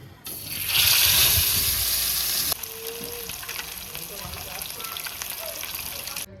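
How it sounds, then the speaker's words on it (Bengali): Catla fish coated in salt and turmeric hits hot oil in a pan, bursting into a loud hiss that settles after a couple of seconds into a steady, quieter sizzle heard up close. "এখন এই কাতলা মাছ নুন হলুদ মাখিয়ে রেখেছে, ওটা ভাজবে প্রথমে"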